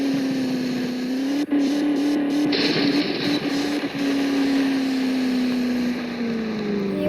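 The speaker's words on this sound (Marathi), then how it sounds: "गाडी स्मूथली वरती चढली." A car climbing smoothly uphill in the Indian Vehicle Simulator video game, a steady droning engine hum that rises slightly in pitch then eases off, continuous and fairly loud with brief clicks layered on top.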